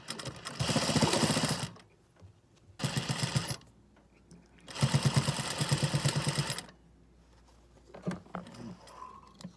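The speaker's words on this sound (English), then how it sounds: "now that I'm going to sew here, it's going to catch on the other side" A sewing machine runs in three separate bursts, rapid and close, stitching folded binding on a washable isolation gown made from a bed sheet, with quiet pauses and faint handling noises between runs.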